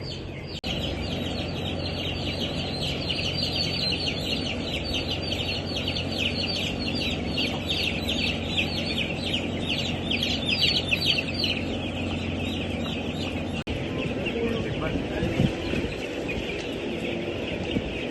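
Broiler chickens cluck and call steadily in a closed-house poultry farm, a dense, continuous flock chorus filling the barn at even loudness, with a low machinery hum underneath throughout.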